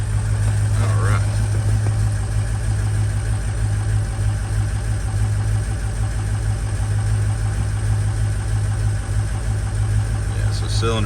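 A customer truck's engine idles steadily and loudly during a power balance test with cylinder 8 completely dead, a continuous low drone with slight vibration throughout. Brief voices are heard.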